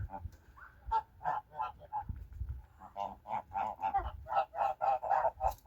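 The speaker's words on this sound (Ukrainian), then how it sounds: "Гуски паруються." Geese and ganders honk repeatedly in a noisy flock while mating, loud nasal calls overlapping in a steady busy rhythm, close by.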